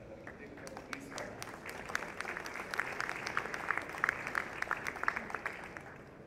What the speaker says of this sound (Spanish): Recibamos un fuerte aplauso al arquitecto Luis Tagle